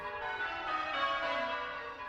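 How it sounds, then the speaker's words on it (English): Eight church bells ringing together in a continuous, overlapping wash of sustained tones, somewhat distant and moderately soft, in Ypres. "The 8 bells you can hear range from a treble"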